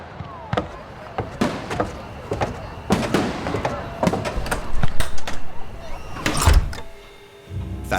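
Fireworks bursting during a cartoon night scene of mischief and a shower of gold coins, a rapid string of sharp cracks and pops of varying loudness over a busy background, ending with a louder burst before a brief lull.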